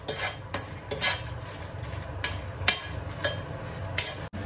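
Spices dry roasting in a pan with no oil, a metal spatula scraping and clinking against the pan every half second or so over a low, steady rustle.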